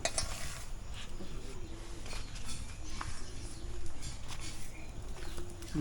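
Pigeons coo softly in repeated low, throaty calls, with faint clinks and clatter in the background.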